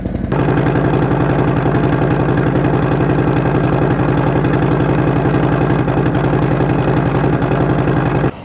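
A motorcycle engine idles loudly and close up, its exhaust thumping in a fast, even rhythm that holds steady throughout.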